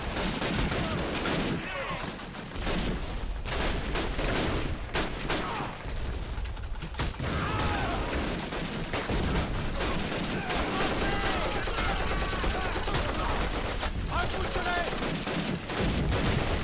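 Gunfire from Call of Duty: United Offensive at Bastogne, with dense bursts of rifle and machine-gun shots and distant battle noise throughout, loud and continuous, while someone speaks over it.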